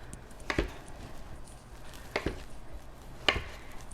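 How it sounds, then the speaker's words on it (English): A sharp knife slicing through a tomato on a cutting board gives three soft, separate chopping taps spaced about a second apart, close by in a quiet room, with no talking. "Good sharp knife will cut through tomatoes"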